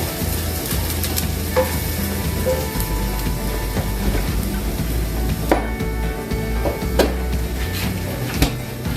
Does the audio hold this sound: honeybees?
no